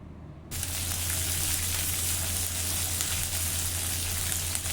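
Sliced onion and green chillies, prepared for sambar, fry in hot oil with a loud, steady sizzle that starts suddenly and then holds evenly throughout.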